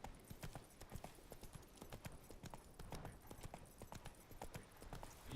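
Roach the horse's hooves clip-clopping in the video game Witcher 3: quick, even hoofbeats trotting at a steady pace, fairly faint and without talk.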